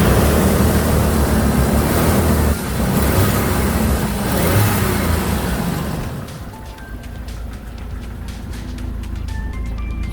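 A 1994 Jeep Wrangler YJ engine revs loudly and close up, a dense, broad roar that holds steady for about six seconds, then eases back to a quieter idle with faint clicks over it.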